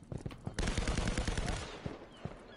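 Gunshots crackle in a competitive team shooter match, with a few sharp single shots followed by a dense, sustained burst of rapid fire and a couple of trailing shots, all fairly close.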